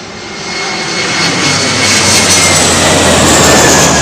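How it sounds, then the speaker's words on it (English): An Emirates Airbus A380 arriving from Dubai roars overhead while landing at Heathrow on runway 27L, a loud, steady jet rumble swelling and holding close by. "Trev Lyon, Emirates 380 from Dubai at ETA 1347."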